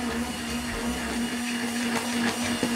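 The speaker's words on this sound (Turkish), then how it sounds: "İyi piştiği zaman çabucak parçalayıcıdan geçer." A food chopper whirs steadily with a constant motorized hum, close and fairly loud, blending cooked fava beans with a little carrot for the whole stretch with a few small knocks.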